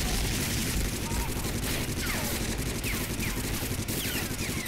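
Rapid gunfire bursts from the video game Medal of Honor Frontline, continuous and loud, blurring into a dense fusillade with someone talking over the shooting.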